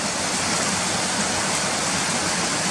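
A small waterfall pours under a road, giving a steady, dense rushing hiss of falling water, close and continuous with no voices or breaks.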